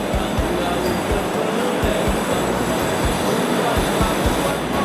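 Light rail train at the LRT Palembang Jembatan Ampera station, a loud continuous rumble with regular rhythmic wheel clunks over rail joints.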